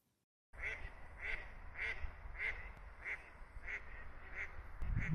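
Ducks quacking by a small lake near the village of Świętno, a steady series of about nine evenly spaced, moderately near quacks after a brief silent start, over low outdoor rumble.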